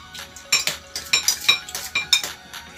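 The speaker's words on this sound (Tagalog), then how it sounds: "Sabi na maghugas ng pinggan." Dishes being washed: cutlery and plates clink and clatter in quick, close, irregular knocks, with no voices over them.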